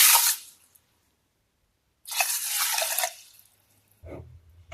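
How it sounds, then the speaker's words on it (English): Water poured from a measuring cup into a cooking pot, two cups in all: a bright splashing burst at the start, then a longer steady pour of about a second, followed by a low thud. "Now I'm going to fill my cup with 2 cups of water. I'm going to pour this in."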